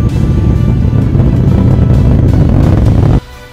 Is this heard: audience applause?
no